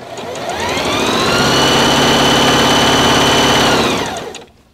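A sewing machine, just cleared of a bird's-nest thread tangle, stitches fabric in a loud, steady motor whir with rapid needle chatter that runs a few seconds and then stops.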